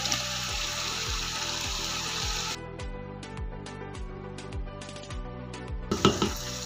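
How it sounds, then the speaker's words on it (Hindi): Masala spices frying in a pan for pulao as tomatoes go in: a loud, steady sizzle that drops off partway, followed by clinks and scraping of stirring close by, with no talking. "अब हम इसमें शामिल कर देंगे टमाटर"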